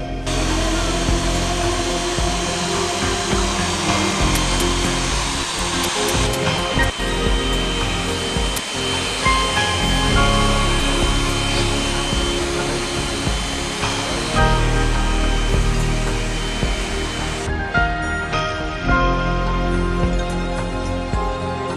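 A hair dryer blows steadily while drying hair during a Brazilian keratin straightening treatment, a loud continuous whir that shifts slightly in pitch as it moves, with no talking.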